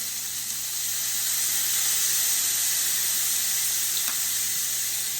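Beef sears in a hot pan, doused with Worcestershire sauce, giving a loud, steady sizzle that hisses evenly throughout with no voices.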